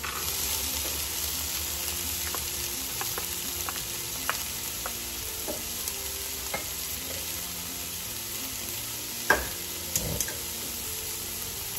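Carrots tossed into a hot frying pan for black-eyed peas and rice sizzle steadily, with stirring clinks and scrapes of a utensil and a couple of sharper knocks near the end.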